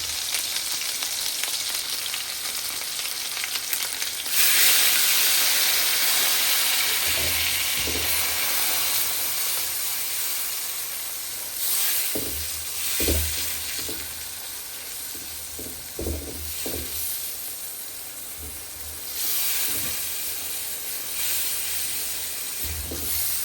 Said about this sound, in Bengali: পেঁয়াজ বাটা এবং রসুন বাটা এগুলো সব একসাথে কষাবো।